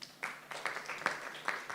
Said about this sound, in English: can we just give her a round of applause?